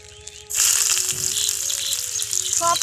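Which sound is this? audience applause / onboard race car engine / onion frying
onion frying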